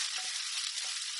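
Ingredients sautéing in a hot pan for a fish cake meal, a dense, bright hiss of sizzling heard close up and unbroken over a brief moment.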